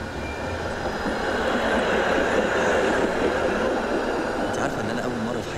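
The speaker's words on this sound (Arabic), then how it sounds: "يلا عشان المترو هيطلع" A metro train rumbles steadily through a station, loud and close with a continuous roar of wheels on rails, while people talk over it.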